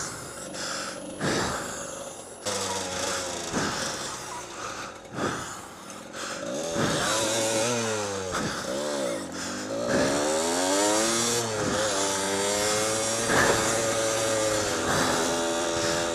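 Dirt bike engine on a mountain trail ride near Cabramurra, revving up and down through gears in rising and falling sweeps, close and fairly loud, with heavy breathing between throttle bursts.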